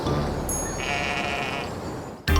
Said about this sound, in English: This is a sheep from our puzzle.